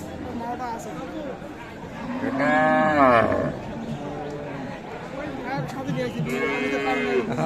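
A cow gives one long, clear moo in the middle, with a fainter low call later, while voices chatter in the background at the Aftabganj cattle market in Dinajpur, Bangladesh.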